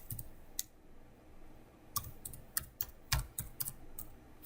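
Computer keyboard keys clack in short irregular bursts while code is typed, with separate crisp clicks clustering toward the end, close and fairly quiet with no talk.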